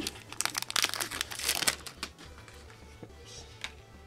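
Crinkly plastic wrapper of a Pokemon Primal Clash booster pack being torn open and crumpled, a dense burst of crackling in the first couple of seconds, then scattered softer rustles alone.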